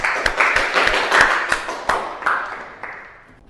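A small group claps sparsely after a group presentation in a university lecturer-certification class, with scattered separate hand claps that fade toward the end.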